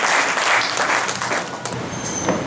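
An audience at a Marathi lavani stage performance claps in a burst of applause, loud and dense at first, then thinning and fading toward the end.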